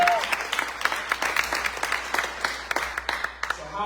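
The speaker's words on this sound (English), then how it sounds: "Clap it up for y'all." An audience at a Foglifter Press book launch claps for a few seconds, a loose patter of individual hand claps, fairly close and moderately loud, with no voices over it.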